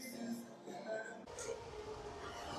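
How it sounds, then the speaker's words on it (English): A train rumbling through the Brockville tunnel, a steady broadband roar with a sharp shift in tone midway, continuous and moderately loud with faint tonal squeals. "Who doesn't like trains, right? Especially when they're in a tunnel."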